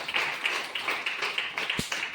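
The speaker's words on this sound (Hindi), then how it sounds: "एक बार अपने जोरदार ताली मारिए" An audience at a training meeting claps rhythmically in steady, repeated bursts, moderately near, with one heavier thump partway through.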